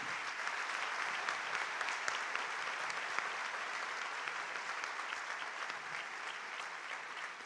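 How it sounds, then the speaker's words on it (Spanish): An audience at a university graduation ceremony gives sustained, even applause, a dense continuous clapping heard from some distance in a hall. "Les pido por favor que le den a él y a Tecnoquímicas un sentido aplauso"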